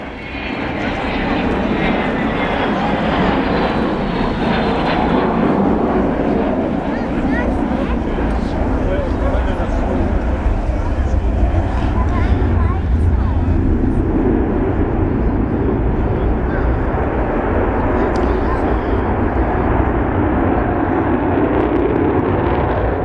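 Avro Vulcan XH558 bomber flying a display at the 2009 East Fortune Airshow, its engines a loud, sustained roar that swells and shifts in pitch as it passes, with a commentator's voice running over the noise.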